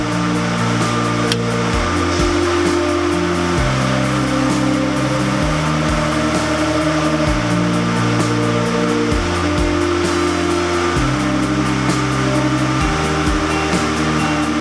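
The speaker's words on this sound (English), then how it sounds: "This machine expertly transforms carded sliver into refined roving with precision." A simplex roving frame in a cotton spinning mill draws carded cotton sliver into roving, giving a loud, steady mechanical whir and hum with shifting low tonal bands and no talk.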